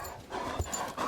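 A dog pants outdoors during a snowstorm, with quick, breathy huffs close by and a faint low bump in the middle, with no talking.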